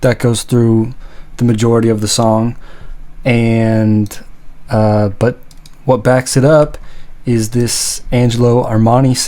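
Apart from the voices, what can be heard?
No everyday noises stand out.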